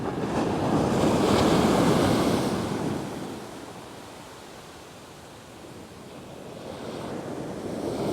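Ocean surf breaking on a fishing beach with leftover ground swell, one wave building to a loud close wash, fading into a quieter lull, then the next wave rising as the wind blows.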